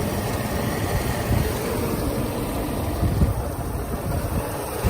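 A 1994 Mercedes-Benz S500 idles steadily and smoothly, a close, even engine hum with no talking.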